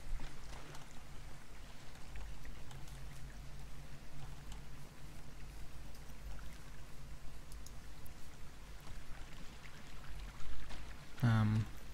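A creek in a video game flows steadily, a continuous soft watery wash with a low hum beneath and a brief louder splash near the end.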